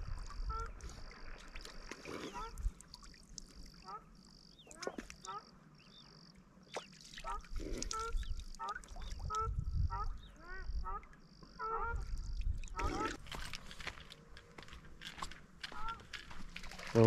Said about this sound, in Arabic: ها هو البط، شوف.